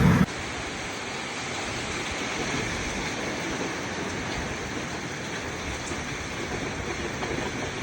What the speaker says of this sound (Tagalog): Sa ganas uwan.